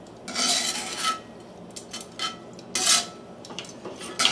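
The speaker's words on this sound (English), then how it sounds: "A reasonably generous grind of salt." Salt is ground from a grinder in several short, raspy crunching bursts, close and dry, with brief pauses between twists.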